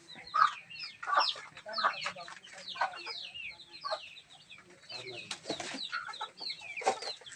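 Several chickens clucking and squawking nearby on a rural farm in overlapping, irregular calls, a busy farmyard chorus without speech.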